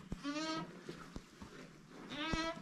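A newborn lamb lying in a pen corner beside its ewe gives two clear, quavering bleats close by, one near the start and one near the end, with a quieter gap between.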